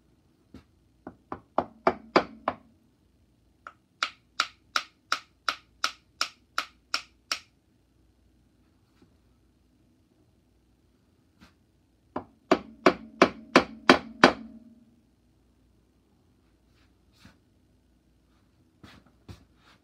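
A small hammer peens pins on a nickel silver handle in quick, crisp taps, two runs of about a dozen light blows each with a pause between, plus a few scattered strikes, all close and alone.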